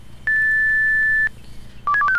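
Alarm tones paging the ambulance service in the German emergency game Emergency 4: one long steady beep, then a rapid run of short stepped tones, loud and clean with no talk.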